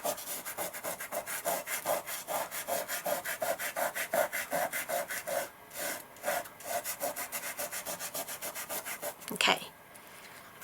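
Quick, rhythmic scratchy rubbing as glitter is burnished onto a double-sided adhesive sheet for a handmade card, dozens of short close strokes that slow briefly and end with a few sharper scrapes.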